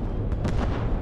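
A From The Depths warship fires a broadside of cram cannons, heard as a dense, heavy rumble of overlapping booms with a few sharper reports cutting through, loud and continuous through the whole short clip.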